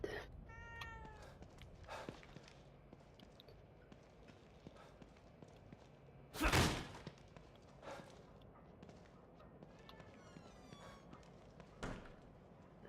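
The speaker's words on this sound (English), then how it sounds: "The cat." Cat meowing in The Evil Within 2, a few faint game meows over a busy ambient bed, with one loud sharp impact partway through and a murmur of game sounds throughout.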